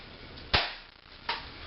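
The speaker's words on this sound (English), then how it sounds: "Just cock it back, and you got your first shot right there." A spring-loaded airsoft bolt-action sniper rifle fires two sharp, close snapping shots spaced under a second apart over quiet background hiss.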